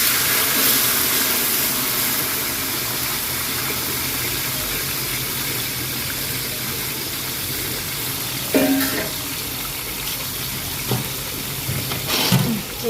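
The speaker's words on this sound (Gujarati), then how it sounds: "ચોરીને થોડી વાર તેલમાં તળવી લઈ." Garlic paste sizzles in hot oil with cumin and asafoetida during a hostel breakfast cook, a steady crackling hiss throughout with a few sharper clicks and scrapes near the end.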